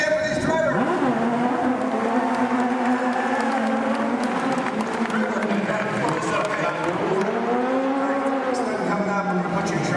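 A theme park show audience at Walt Disney World applauds and cheers steadily throughout, with a loud voice shouting over the noise and some tonal background sound.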